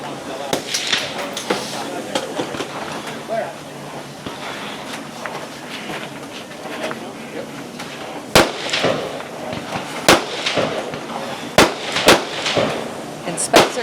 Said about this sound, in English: Graham, his last 12 shots with his pistol